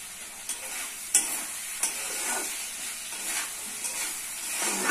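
Chicken pieces sautéed in spiced oil with bay leaf, a constant close sizzle broken by several sharp stirring clacks against the pan.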